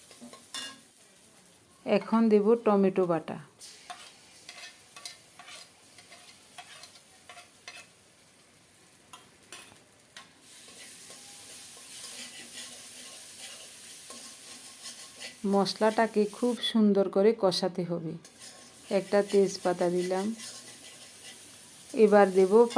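Spice paste with salt and turmeric, for a prawn malai curry, is stirred in a pan over low heat, giving a faint, steady sizzle with occasional utensil scrapes, while a voice is heard in several short bursts.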